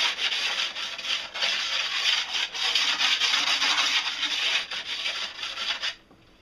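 A file scrapes burrs off a snowboard's metal edge in repeated close, rasping strokes, steady and even, before stopping abruptly near the end.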